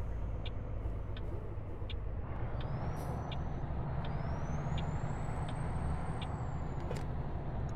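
A Freightliner FLB truck pulls in at a Sacramento Walbert in American Truck Simulator, with a steady engine rumble, hissing air brakes and a rising high whine, plus repeated short ticks and beeps, all fairly quiet.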